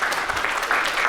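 Applause from a keynote audience at a 2019 conference, a steady wash of many hands clapping, fairly loud and continuous without talk.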